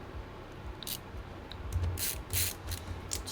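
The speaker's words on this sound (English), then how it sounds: "let's get these screws back in" Ratchet screwdriver driving screws back into a laptop palmrest on an HP M6 notebook, giving a few quick clicking ratchet bursts with short pauses between them, faint and close-up, with no voices.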